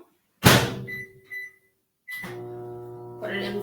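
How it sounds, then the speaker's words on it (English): A microwave door thumps shut close by on a cup of water, two short beeps follow, then the oven starts with a steady low hum. "I'm going to put my cup of water in the microwave."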